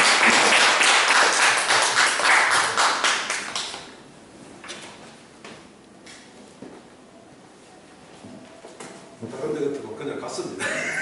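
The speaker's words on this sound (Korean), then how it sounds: "뜨거운 박수 부탁드리겠습니다" An audience at a public lecture in a Gumi café claps warmly for several seconds, then the applause fades into a quieter room with scattered taps and faint voices.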